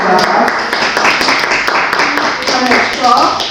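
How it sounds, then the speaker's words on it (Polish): Clapping from an audience at a children's poetry recitation contest, loud and close, mixed with a voice talking over the brief burst of applause. "I też brawa"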